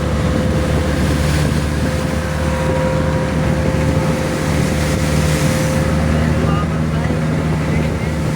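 A motorboat engine drones steadily over open water during a boat race, with wind and waves rushing throughout.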